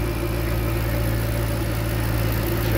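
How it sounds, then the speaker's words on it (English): A 2012 Ford Mustang Shelby GT500 idles with the hood open, a steady, smooth low engine hum with an even drone and no revving, heard close up and without talk. "Just how smooth that runs."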